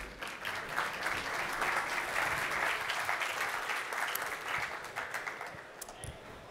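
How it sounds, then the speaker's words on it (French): An audience at a building-regulations conference applauds in a continuous, fairly faint wash of clapping, many hands blending evenly and thinning out slightly toward the end. "Vous pouvez les applaudir."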